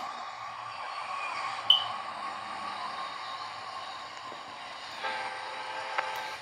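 A Metro-North train rumbles past at a distance at Philipse Manor station, a steady low roar with faint metallic clanks and a brief squeak.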